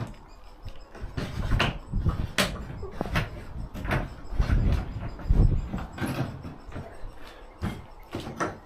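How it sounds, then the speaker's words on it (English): A garden shed or cabin door at an allotment plot is pulled shut, giving a few knocks and thuds among outdoor rustling and handling noise, fairly close, with no clear voices. "Shut the door."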